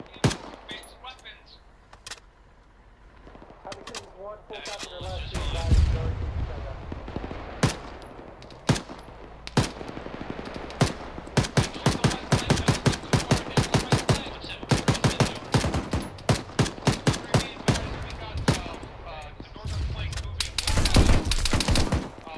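Bursts of machine gun fire ring out in an Arma combat scenario run in Zeus mode, sharp rapid volleys that grow denser and louder midway, with scattered single shots and a voice speaking at moments.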